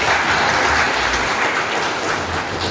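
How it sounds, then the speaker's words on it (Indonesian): A large audience at a government event in Nusa Tenggara Timur, Indonesia, applauds in a loud, dense, steady wash of clapping throughout. "Tepuk tangan Bapak Ibu."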